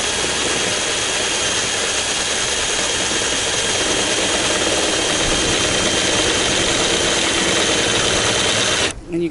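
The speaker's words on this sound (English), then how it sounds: "You can hear the drill loading, so you know you're getting close." A loud, steady mechanical whine of a power drill boring through a roof support on a Ford Escape Hybrid, running continuously under strain, cutting off abruptly near the end.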